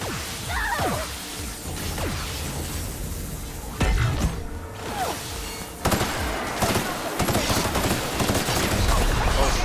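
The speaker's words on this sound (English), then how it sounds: "Who else is shooting me?" Gunfire from The Outer Worlds video game hits the player, with repeated sharp bursts, whooshes and impacts in dense, loud, chaotic bursts close up. A voice talks over part of it.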